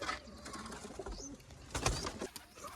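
Domestic pigeons kept in a loft coo softly and repeatedly nearby, their low throaty calls overlapping amid faint rustling and background noise.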